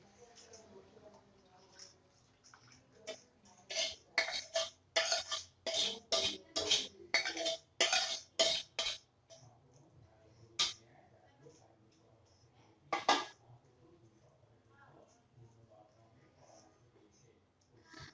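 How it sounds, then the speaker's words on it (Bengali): Rice and lentil powder stirred into cooked meat in a pot for haleem: a rapid run of metal spoon clinks and scrapes against the pot, then a few isolated taps, fairly quiet and close. "গোশের সঙ্গে আমি চাল ডালের গুঁড়াটা এখন ভালোভাবে একটু মিশিয়ে দিচ্ছি।"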